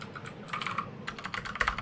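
Computer keyboard keys clatter in quick irregular bursts of close clicks, with a faint hum underneath.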